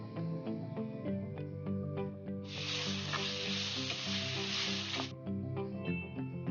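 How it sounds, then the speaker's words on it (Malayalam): Garlic, ginger, red chili and green chili paste sizzles loudly in hot oil for a prawn biryani, a steady close frying hiss that surges sharply for a couple of seconds midway before settling back, with no talking. "ഇനി ഇതിലേക്ക് അരച്ച് വെച്ചിരിക്കുന്ന വെളുത്തുള്ളി, ഇഞ്ചി, മുളക്, പച്ചമുളകിൻ്റെ പേസ്റ്റും കൂടെ ചേർത്ത് കൊടുക്കാം."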